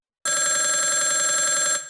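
An old-fashioned telephone bell rings loudly and steadily in one continuous burst, close and alone, cutting off abruptly.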